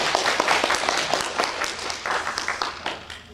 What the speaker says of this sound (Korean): 우리 이 하나님께 영광과 감사의 박수를 올려드립니다.